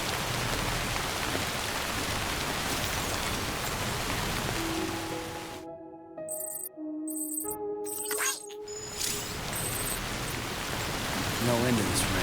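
Rain falls in the video game Death Stranding as a dense, steady wash of hiss, cut off abruptly for a few seconds by tonal chimes and beeps before the downpour returns.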